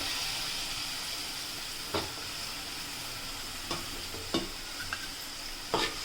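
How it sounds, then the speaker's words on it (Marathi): Drumstick pods, tomato and potato being stirred into a spicy Maharashtrian curry pot, with a steady soft sizzle and a few sharp spoon knocks against the pot scattered through it. "आपल्याला शेवग्याच्या शेंगा टोमॅटो आणि बटाटा पहिले ह्यामध्ये चांगलं मिक्स करून घ्यायचं आहे"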